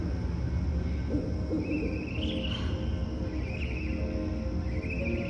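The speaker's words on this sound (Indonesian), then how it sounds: "Burung hantu." An owl hoots at night in a horror setting. A few spaced calls sit over a steady, insect-like background hum.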